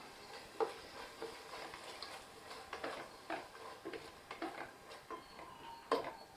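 Yogurt is stirred into Ambur chicken biryani in a pressure cooker, with faint, irregular scraping taps of a spoon against the pot and a soft background hiss.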